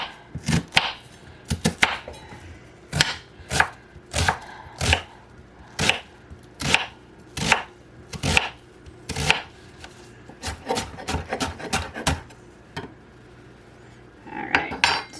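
Onions chopped with a knife on a cutting board for homemade potato soup, crisp close thuds in a steady rhythm, then faster bursts of rapid mincing, with no talk.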